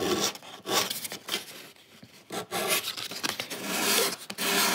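A wooden viola neck chamfer is sanded by hand in close, rasping lengthwise strokes that rise and fall in an uneven rhythm, with brief pauses between passes.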